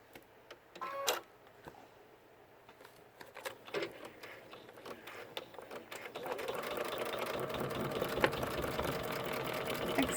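A sewing machine stitches a washable face mask with a filter pocket, starting in short bursts and then settling into a steady, continuous run for the second half, close by with no talk.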